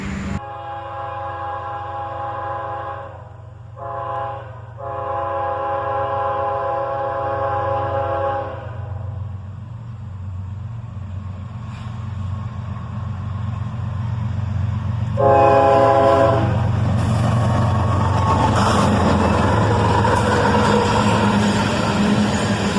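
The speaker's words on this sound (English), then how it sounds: "a friendly engineer honks the horn for us" A heavy CSX freight train rumbles steadily past as a loud, multi-tone locomotive horn blasts several times, cutting out briefly before sounding again near the end.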